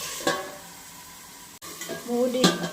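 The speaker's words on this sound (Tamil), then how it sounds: "தக்காளி போட்டு நல்லா வணக்கணும்." Tomatoes sauté in a pan for a Thakkali Satham, giving a soft sizzle with spatula scrapes and a louder stirring clatter toward the end.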